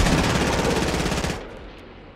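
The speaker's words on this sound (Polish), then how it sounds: "mogliście usłyszeć z nieba Fortnite dźwięki czegoś w stylu przelatującego samolotu. To co słyszycie teraz w tle." A broad, roaring rush like an airplane passing overhead in the Fortnite battle royale game, loud and steady for over a second before dropping away to a faint fading tail.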